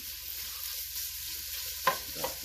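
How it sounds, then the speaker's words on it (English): Bacon sizzles steadily as it browns in a pot for corn chowder, a soft continuous crackle close by, with a couple of brief scraping knocks from stirring near the end. "So we're gonna start cooking our bacon first. Get that kind of browned up."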